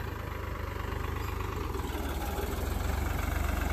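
A tractor stuck in mud idles with a low, steady diesel throb, close and continuous with a faint regular pulse and no voices.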